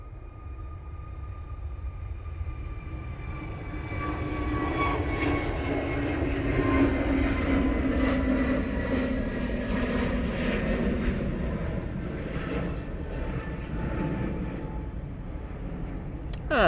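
Jet airliner taking off from Manchester Airport bound for Tenerife, a distant engine roar swelling to a steady loud rumble with high whine, then slowly fading as it climbs away.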